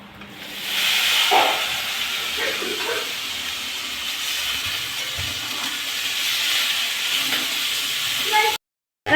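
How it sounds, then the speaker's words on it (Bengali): Boiled potato and banana peel go into a sizzling turmeric spice paste in a pan, giving a loud, steady hiss and frying crackle that runs nearly unbroken before cutting off abruptly. "আলু আর কলা খোসাটা আমি আগে থেকে সিদ্ধ করে রেখেছিলাম এবার দিয়ে দেবো"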